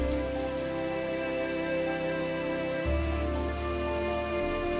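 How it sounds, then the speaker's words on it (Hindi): Heavy rain pours down in a cartoon scene, a dense continuous rushing wash over a steady background tone, with a low thump partway through and no voices. "बाहर तेज बारिश है"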